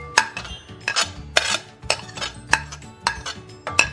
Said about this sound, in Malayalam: ഇനി ഈ കട്ട് ചെയ്ത് വെച്ചിരിക്കുന്ന വെജിറ്റബിൾസ് എല്ലാം ഞാൻ ഒരു ബൗളിലേക്ക് ഇട്ട് കൊടുക്കുകയാണ്